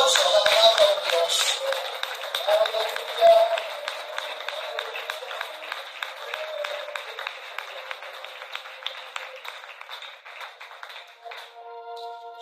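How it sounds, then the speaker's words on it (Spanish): Church congregation breaking into strong applause, many sharp claps in a dense rhythmic patter that gradually thins, with a voice calling out briefly near the start. "¿Cuántos le brindan un fuerte aplauso a la palabra de Dios?"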